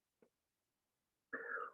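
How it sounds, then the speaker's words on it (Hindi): A short, quiet cough-like burst followed by a longer throat-clearing rasp during a yoga and pranayama session, close by in an otherwise silent room. "खांसी भी आती है तो खांस लीजिए,"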